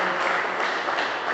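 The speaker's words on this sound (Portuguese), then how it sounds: "dando uma salva de palmas bem alegre" Joyful applause from a church congregation during a Portuguese-language service, a brief dense, steady wash of clapping, fairly loud and unbroken.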